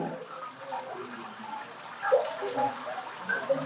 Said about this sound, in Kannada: ಇದು ನೀರು ಮೇಲಿಂದ ಬರ್ತಾ ಇರುತ್ತೆ